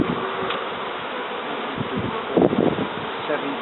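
Honey bees buzz at an open Dalek hive while combs are handled: a close, continuous swarm drone with soft rustling and a few brief louder bursts.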